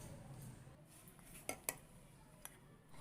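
A spoon stirring coffee with warm milk in a mug, quiet and close, with a few sharp clinks of metal against the mug rim spaced out over faint swishing.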